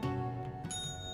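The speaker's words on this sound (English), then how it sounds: "Ring the bell!" A bell rings in the video game Luigi's Mansion 3, a short bright chime with a sustained ringing tone and a higher shimmer entering partway through, heard close and alone.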